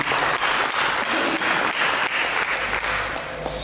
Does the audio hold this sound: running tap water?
no